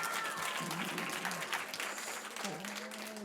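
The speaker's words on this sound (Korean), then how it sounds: "박수로 한번 맞이해 볼까요?" A youth talk-concert audience claps to welcome a high-school student performer, the applause fairly soft and steady while a voice speaks over it.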